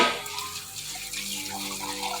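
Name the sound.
tap water running while washing dishes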